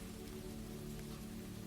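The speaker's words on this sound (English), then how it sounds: "The rain remained, but now it seemed to come from all directions, not only from the windows overhead." Soft, even rain falls steadily around an old castle library, a close, continuous hiss with a low rumbling undertone and no voices.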